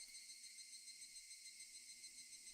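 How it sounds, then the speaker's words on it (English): Cicadas drone in a dense, steady, high-pitched chorus from all around, a continuous shrill buzz at moderate loudness with no voices, in a village summer scene from the game Higurashi. "only the cry of the cicadas remained, annoyingly loud"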